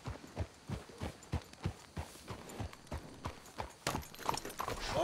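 Horses' hooves clip-clop in Red Dead Redemption 2 in a steady, evenly spaced walking rhythm. The hoofbeats sound fairly close and clear, and no talk comes through.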